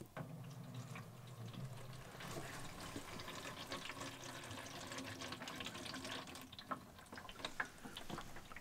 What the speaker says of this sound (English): So I'm going to pull the plug.